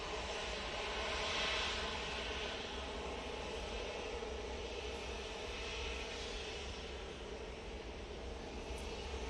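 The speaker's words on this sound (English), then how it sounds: "So this is 787-9 Dreamliner coming in from Bahrain." Boeing 787-9 Dreamliner airliner arriving at Manchester Airport gives a steady broad jet roar that holds loud and constant for several seconds, with no talk.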